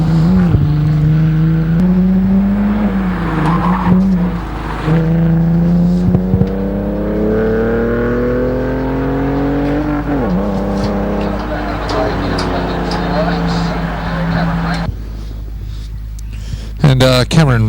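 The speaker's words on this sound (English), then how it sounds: "Cameron Langley now making his way around the hairpin in the BMW" A BMW race car rounds a hairpin at the Legends of the Lakes hillclimb, its engine loud and close, rising and falling through repeated revs and gear changes before a sharp burst near the end.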